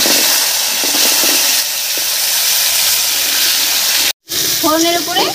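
Peeled potatoes hit hot oil already crackling with cumin seeds, whole garam masala and bay leaves, giving a loud, continuous hiss up close; a brief cut follows, then a voice is heard over the cooking.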